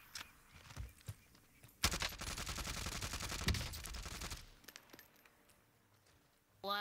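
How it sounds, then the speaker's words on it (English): Heavy gunfire in Call of Duty: Warzone erupts as a dense, sustained burst for a couple of seconds, followed by scattered quieter cracks and shuffling. "Under hostile fire."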